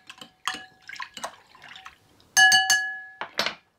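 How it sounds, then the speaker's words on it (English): Half a teaspoon of nutritious oil stirred into a glass container for herbal hair care, with a spoon clinking and scraping against the glass in short bursts, then a sustained ringing tone as the glass is struck. "Give it a stir."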